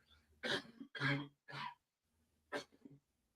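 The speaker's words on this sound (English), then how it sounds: "Excuse me, I need to cough." Several rough coughs and throat-clearing bursts come close up, three in quick succession, a pause, then one more.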